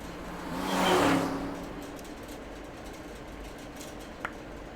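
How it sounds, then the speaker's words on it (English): A car engine swells and fades in a driving scene from the game AI: The Somnium Files, a single smooth pass peaking early and then settling into a low steady hum, with one faint click near the end. "I just wish we didn't have to see the car driving scene every time."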